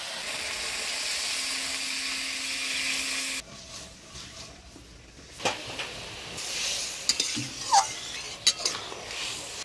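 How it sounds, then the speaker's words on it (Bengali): Mustard curry of green chilies and ground mustard paste with added water, coming to a boil in a village kitchen: a steady, loud broadband hiss for a few seconds, then a quieter bubbling with scattered small pops and clicks. "বলক এসে গেছে"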